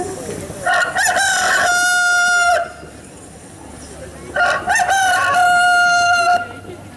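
A rooster crows loudly twice, each a drawn-out harmonic cock-a-doodle-doo close to the listener, separated by a few seconds of quieter background noise.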